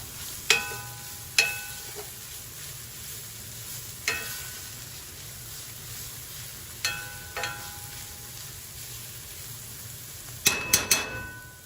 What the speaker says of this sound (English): You want to stir your tomato paste frequently, because you don't want it to burn on the bottom of the pan.